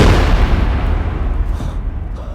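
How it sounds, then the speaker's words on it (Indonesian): A homemade bomb blows up on a rock in a backyard in a film, a heavy, booming blast that rumbles loud and low before slowly decaying over about two seconds. "Seketika benda tersebut meledak."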